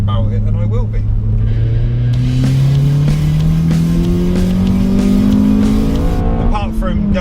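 Honda Accord CL9 engine climbs through the revs into VTEC while overtaking, a loud rising in-cabin howl with a gear change near the end and a voice talking over it.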